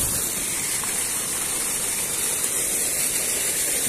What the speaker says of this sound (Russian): Вода постоянно идет.